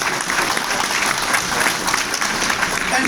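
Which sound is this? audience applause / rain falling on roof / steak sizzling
audience applause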